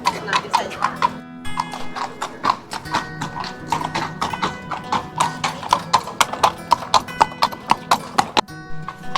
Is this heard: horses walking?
yes